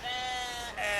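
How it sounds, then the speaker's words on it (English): A sheep bleats once, a loud, close, wavering cry lasting about a second with a brief break near the end. "The sound a sheep makes is bleat."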